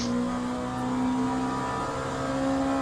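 A hypercar engine in the racing game Le Mans Ultimate drones at a steady high pitch, holding constant revs throughout, loud and continuous with no voices.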